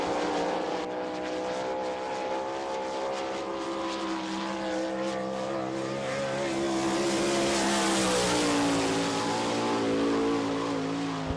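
A sprint car with a Maxim chassis and Brown Racing engine laps a Florida dirt track at Barberville, its engine droning and rising in pitch as it swells closer, then easing off.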